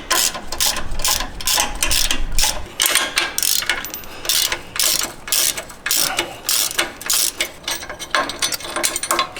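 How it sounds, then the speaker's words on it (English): A ratchet wrench with a 9/16 inch socket clicks rapidly and loudly up close, loosening bolts on the strap brackets at the lower control arm mounts of a Jeep JL Wrangler, in repeated bursts with brief gaps. "using a 9/16 inch socket and wrench, we're going to go ahead and remove bolts attaching the strap brackets to the lower control arm mounts."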